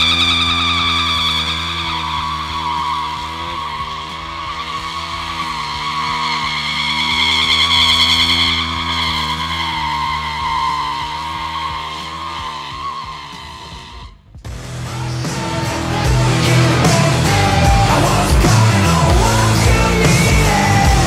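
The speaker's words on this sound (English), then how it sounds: "I see you make a perfect donut." A motorcycle holds a long, loud engine whine that wavers in pitch, then a sudden switch to harsh broadband tyre skidding noise during a donut.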